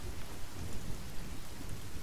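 Thunderstorm with steady rain in the survival game The Forest, a dense even hiss of rainfall with low rumbling thunder underneath, continuous and fairly quiet with no voices.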